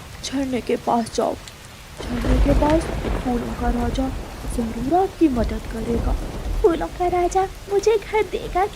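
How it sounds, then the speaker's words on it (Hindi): Cartoon rain falls with thunder as a constant wash of hiss, and a low rumble swells for a few seconds. Animated characters talk almost continuously over it. "ऊपर से बारिश का पानी चिड़िया के बच्चों पर गिर रहा था"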